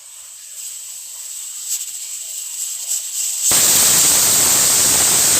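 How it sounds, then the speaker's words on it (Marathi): A pressure cooker cooking potatoes bursts into a loud, steady hiss of escaping steam about halfway through, after a quiet stretch with faint kitchen sounds. "मी साईडलाच कुकर लावून घेतला तर कुकरमध्ये लावलेले मी बटाटे"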